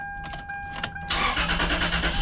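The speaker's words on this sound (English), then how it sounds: "So now I'm gonna start up the car" A 2002 Toyota 4Runner engine cranks briefly with a few clicks and whirs, then catches and settles into a steady, close running rumble.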